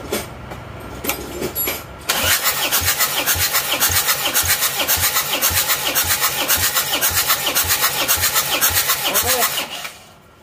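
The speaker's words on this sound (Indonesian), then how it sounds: "Tes kompresi nomor 1 yuk, starter yuk." A starter motor cranks an Isuzu Panther diesel engine during a compression test, a loud steady rhythmic chugging of even compression pulses that runs about eight seconds after a short lead-in, then cuts off.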